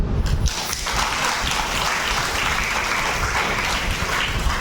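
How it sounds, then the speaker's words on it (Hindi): An audience claps steadily and loudly throughout at a spiritual gathering in Pithora, Chhattisgarh, a dense continuous wash of applause with no break. "ताली तो बजाओ।"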